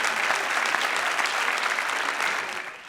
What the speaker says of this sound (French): Gilles Bonnet et Sylviane Chen, qu'on va applaudir bien fort, s'il vous plaît.